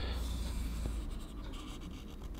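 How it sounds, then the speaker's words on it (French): A pen traces a knife outline on burlap micarta, giving a soft continuous scratchy scraping close up, fairly quiet and without talk. "je vais juste faire le contour au stylo assez rapidement du couteau"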